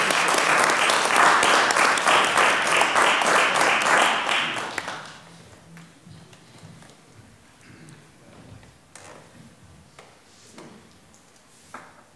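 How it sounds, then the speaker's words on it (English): A round of applause at a city council meeting, dense clapping from the room for about five seconds that then fades into quiet chamber noise with a few faint sounds. "Let's have a round of applause."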